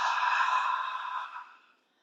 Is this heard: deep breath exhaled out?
yes